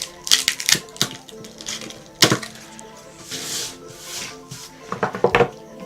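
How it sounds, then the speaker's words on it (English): Scissors snip through a cinnamon stick, trimming it down during a farmhouse fabric pumpkin craft; a series of close, sharp crunching cuts and scrapes come in bursts, with quieter rasping handling between them. "I'm just going to use my scissors to do that."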